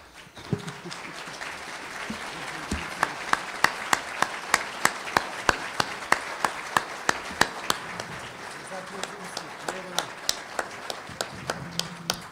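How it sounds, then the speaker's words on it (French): An audience at an election candidates' debate applauds in a sustained round of clapping, with sharp individual claps standing out over the crowd and some voices talking underneath. "Oui, vous pouvez les applaudir."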